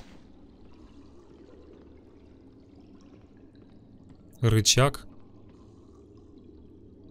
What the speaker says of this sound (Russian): а уровень воды упал